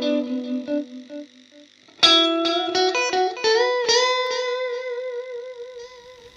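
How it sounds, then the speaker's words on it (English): Electric guitar through a Fender Blues Junior amp and Universal Audio Ox Box with delay: a soft phrase, then a loud struck chord at two seconds and several plucked notes whose echoes repeat and fade, close and clear with no talking. "We've also got a delay, which you can add,"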